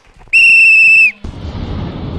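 A loud, shrill referee-style whistle sounds once, held steady for about a second to start a game at a children's holiday garden event, followed by a burst of crowd noise and clapping.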